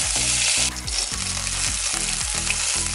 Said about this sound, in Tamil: தேங்காய் எண்ணெய் யூஸ் பண்ணியிருக்கேன். அதில் வந்து கடுகு போட்டிருக்கேன், அப்புறம் சீரகம் போட்டிருக்கேன். ஸோ இது வந்து நல்லா வதங்குது.